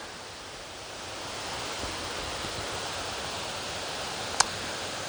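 Continuous rushing water at Little Shickshinny Falls, Shickshinny, Pennsylvania, a soft, even broadband hiss that builds gently over several seconds, broken once by a single sharp click near the end, with no voices.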